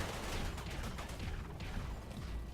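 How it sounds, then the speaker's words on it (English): Mech machine guns in BattleTech unleash a dense, continuous rattling burst of gunfire with crunching impacts, loud and steady throughout, no talking. "let's see what the machine guns will do from the front"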